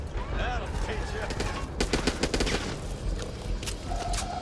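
Bursts of rapid gunfire from a weapon in the zombie shooter Back 4 Blood, loud and close, with clustered shots mid-clip over a busy game soundscape of voices and effects.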